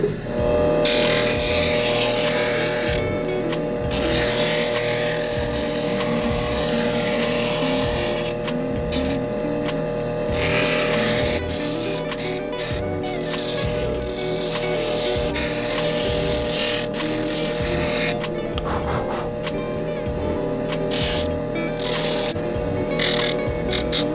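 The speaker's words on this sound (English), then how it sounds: "So now we're going to sand it down." A TandyPro burnishing machine sands the beveled edges of stitched leather, a loud, steady motor buzz with rough grinding friction running almost continuously, broken by a few short dips.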